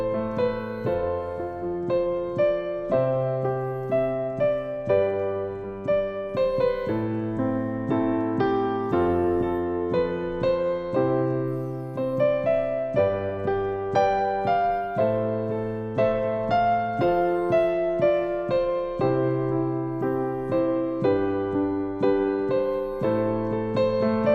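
Solo piano improvisation moving through chord inversions under a melody line, with sustained chords shifting every couple of seconds and a steady, even flow of notes throughout, no voices.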